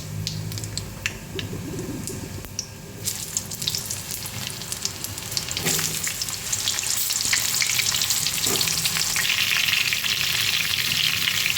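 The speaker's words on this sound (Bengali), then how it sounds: "এক মুঠো করে আম আমি দিচ্ছি আর তেলের সাথে আমগুলো আমি মিশিয়ে নাড়াচাড়া করে নিচ্ছি" Mango pieces with dried red chillies and five-spice seeds sizzle steadily in hot mustard oil while being stirred, with the frying growing louder and denser toward the end and a few scraping clicks along the way.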